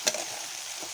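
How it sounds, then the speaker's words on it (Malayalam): Jackfruit seeds being stirred in a pan of frying spice masala: a brief scrape of a spoon at the start over a continuous soft sizzle, close and moderately quiet. "നമ്മൾ ചക്കക്കുരു ചേർത്ത് ഇളക്കിയിട്ടുണ്ട്."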